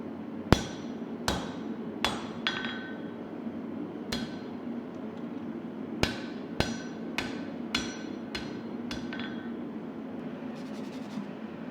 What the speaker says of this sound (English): Now we'll forge in the tang